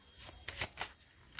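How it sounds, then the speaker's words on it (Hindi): Tarot cards are shuffled by hand, making several quick soft riffling bursts close by, with no talk over them. "बहुत सारे कार्ड्स मेरे गिर रहे हैं"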